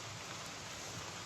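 Rain dripping from trees onto a hiker on the Appalachian Trail in Vermont, a faint, even patter of drops with no voices.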